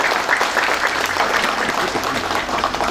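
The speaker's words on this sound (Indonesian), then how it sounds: "Kasih tepuk tangan untuk ulama-ulama kita." Sustained crowd applause fills a mosque during a Maulid Nabi sermon in Bogor, a dense, steady clapping from a large audience that holds at an even loudness throughout.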